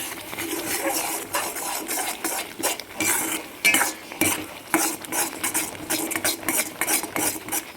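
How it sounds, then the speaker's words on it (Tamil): Semolina being stirred in a pan for rava kolukattai: a continuous scraping and clinking of a utensil against the pan, close and brisk, with irregular rhythmic strokes. "ரவையை வந்து இதில் கொஞ்சம் கொஞ்சமாக சேர்த்துக்கணும் நீ கிண்டிக்கணும் கட்டி வராமல்"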